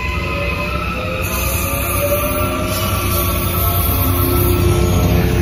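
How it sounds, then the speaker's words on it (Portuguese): A train rumbles and rolls loudly close by, wheels grinding on the rails with high metallic squeals drawn out over the steady roar. "o trem está saindo"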